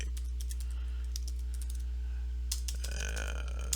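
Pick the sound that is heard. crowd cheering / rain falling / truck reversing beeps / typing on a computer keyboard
typing on a computer keyboard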